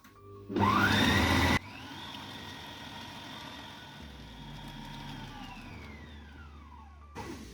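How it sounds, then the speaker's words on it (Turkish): An electric hand mixer whirs loudly for about a second, then runs at a lower steady drone as it whips eggs until white and stiff for a birthday cake, with a brief louder burst at the end. "Kar beyazı olana kadar çırpalım"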